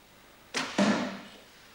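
A powerful bow looses an arrow through wooden doors: a sharp release snap, then a heavy wooden thud with a brief rattling decay, loud and close with no voices.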